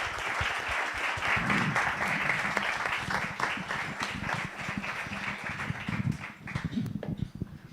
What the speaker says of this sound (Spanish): creo que se merecen un aplauso